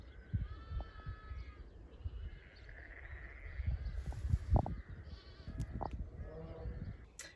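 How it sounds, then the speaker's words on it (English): Sheep and young lambs bleat on a farm field by the coast, several animals calling in scattered overlapping cries, some near and some farther off, over a soft outdoor background. "he puts out the little sheep with their mother"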